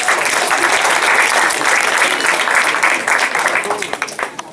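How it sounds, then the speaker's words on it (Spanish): A conference audience gives a strong round of applause for a prize-draw winner, dense sustained clapping filling the room and tapering slightly toward the end. "un fuerte aplauso por favor para el ganador."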